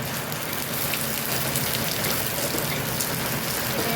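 Chopped shallots hit hot oil in a pan, producing a loud, dense, continuous sizzle that crackles close up like heavy rain, with no voices.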